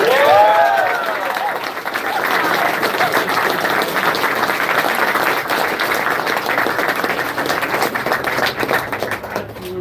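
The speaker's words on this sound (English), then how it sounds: "Give them a round of applause." A crowd applauding steadily, dense clapping that holds at an even level throughout, with a brief voice at the very start.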